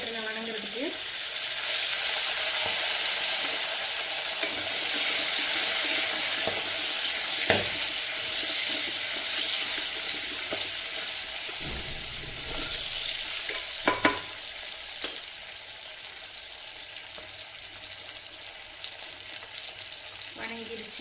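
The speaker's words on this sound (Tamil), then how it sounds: "இது நல்லா அந்த எண்ணெயிலேயே வதங்கட்டும்" Food sautés in hot oil with salt in a continuous bright sizzle, broken by occasional spoon scrapes and clacks against the pan, with a voice briefly in the background.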